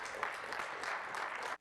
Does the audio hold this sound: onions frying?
no